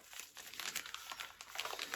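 A yellow plastic parcel bag being torn open and handled during a Ukrainian post unboxing gives a steady run of close crinkling and rustling, with no talk.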